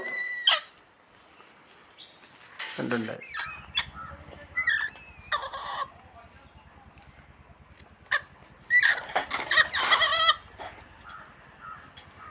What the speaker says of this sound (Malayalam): അടയിരിക്കുന്ന കോഴി ഇതുപോലെ പ്രത്യേക സൗണ്ട് ഉണ്ടാക്കും